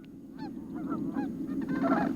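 Several geese honk boisterously on a marsh, repeated nasal calls overlapping one another above a steady low background rumble, moderately close and without any talk.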